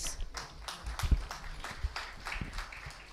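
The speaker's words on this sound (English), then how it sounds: "Can we give a big round of applause?" A conference audience breaks into applause after a panel discussion at a CAR-T summit, a dense wash of many hands clapping with a few louder nearby claps mixed in.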